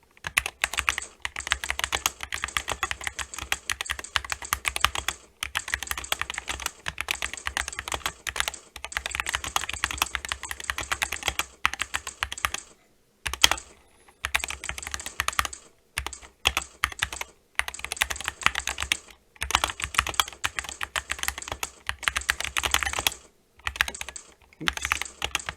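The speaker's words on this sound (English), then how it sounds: "I'm going to point the microphone at the keyboard so you can hear what it sounds like while I'm typing" Rapid, steady typing up close on a SteelSeries Apex Pro TKL linear mechanical keyboard, a dense run of clicks with a few brief pauses between bursts.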